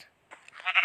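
A single sheep bleats in the video game Minecraft: a short, fairly loud, wavering call after a brief quiet moment, with no voices.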